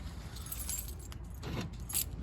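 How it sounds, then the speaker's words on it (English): Car keys jangle and rattle continuously, close and fairly loud, as the owner locks a Mercedes ML55 AMG during an engine repair, with faint outdoor background hum underneath. "I do this, lock the car."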